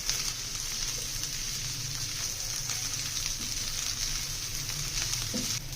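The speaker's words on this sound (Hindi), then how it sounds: "प्याज को सिर्फ हमने सौते करना है, ज़्यादा इसको कलर नहीं देना, पकाना नहीं है प्याज को।" Onions saute in oil in a pan for baingan bharta, giving a steady, moderately loud sizzle with faint clinks from stirring.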